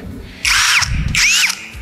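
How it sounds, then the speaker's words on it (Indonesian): A XENON CDID1845 18V cordless impact drill bores into roofing work in two loud whining bursts, each about half a second long and separated by a short pause, with no talk over the motor. "Mesin bor hanya alat untuk pengeborannya ya."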